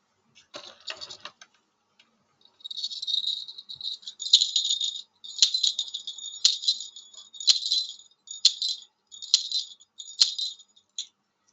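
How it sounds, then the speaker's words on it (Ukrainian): A small bell is rung repeatedly in a steady series of about seven bright, jangling rings, close and clear with short gaps between them, following a faint rustle at the start. "А ви позвоніть у дзвоник. Сім разів."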